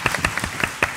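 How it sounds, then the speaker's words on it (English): Scattered clapping from an audience at a legal talk, a brief burst of a few distinct hand claps at uneven intervals, fairly close and clear. "The three of these people deserve a very great round of applause."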